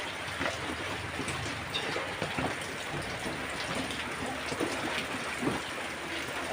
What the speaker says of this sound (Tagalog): Kasi sobrang lakas ng ulan dito guys